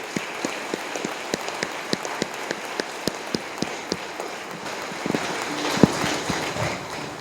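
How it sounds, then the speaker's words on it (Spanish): A sparse, regular patter of a few hand claps from a congregation at a church novena and rosary, fairly faint against room noise, then a denser burst of clapping near the end. "Un aplauso para el Señor."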